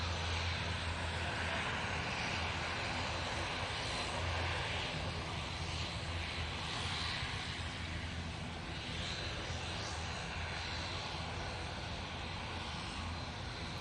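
A Boeing 777 at Manchester Airport produces a steady distant engine roar that stays broad and even throughout, faint rather than close, with a soft hiss over it.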